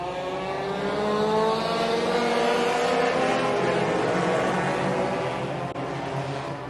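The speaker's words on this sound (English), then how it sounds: "green flag is in the air. This race is underway." A pack of race cars roars steadily off the start at a short-track race, engines droning and revving together in a dense, continuous wash of sound at moderate distance.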